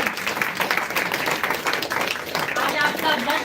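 An audience at a school annual day celebration claps continuously, a dense wash of applause under a speaker's voice.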